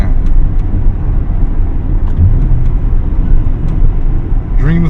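Engine of an Acura Integra Type R while driving, a steady low drone and road rumble holding at an even level throughout, close and continuous, with no talking.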